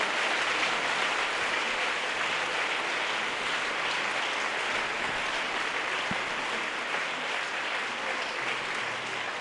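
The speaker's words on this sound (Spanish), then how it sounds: "¿Cuántos le dan un aplauso a ese Dios tan grande?" A church congregation applauds during a sermon, the clapping dense, steady and sustained as a broad wash of many hands, with no speech over it.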